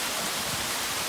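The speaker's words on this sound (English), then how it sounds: "We have a waterfall." Steady broadband rush of a small forest waterfall spilling past a log and an undercut bank among tall fir trees, continuous and fairly close, with no voices.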